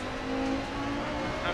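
Audi Quattro rally car engine droning steadily at high revs in DiRT Rally on a Finland stage, a continuous close mechanical hum with no speech.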